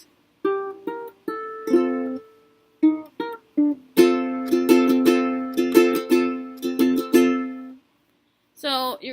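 Ukulele plucking the closing riff of a song, a few sparse notes at first and then a denser run of ringing picked notes, close and clean, followed by a brief spoken voice.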